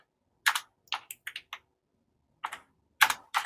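Someone types on a computer keyboard, a quiet, close run of crisp key clicks in short irregular bursts with a gap of silence in the middle.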